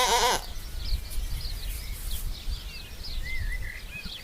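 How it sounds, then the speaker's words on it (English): Sheep bleat faintly and intermittently in the distance at a vineyard, their thin calls carried over gusting wind that rumbles low and steady throughout. "In the background, the bleating of sheep is just about audible over the gusts of wind."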